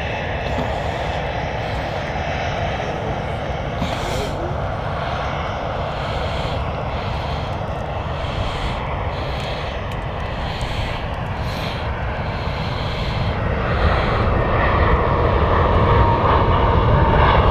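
An airliner on approach to Stansted Airport roars continuously, a loud broad jet engine rumble that holds steady and swells slightly toward the end, with no talk over it.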